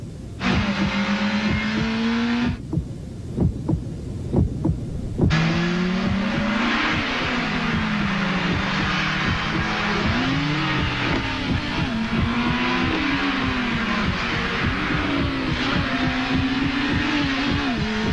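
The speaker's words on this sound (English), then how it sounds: "The all-new 200 horsepower Acura RSX." An Acura RSX rated at 200 horsepower revs loudly with rising and falling engine pitch, cuts off briefly midway, then keeps revving through a series of gear changes.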